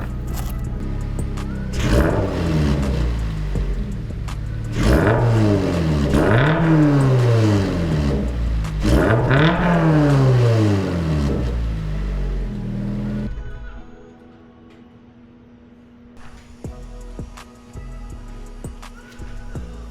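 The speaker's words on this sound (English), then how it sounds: "Let me give it a couple revs." A GR86 fitted with an AWE Touring Edition catback exhaust revs up four times in quick succession, each loud rise and fall droning close by, then settles into a quieter idle.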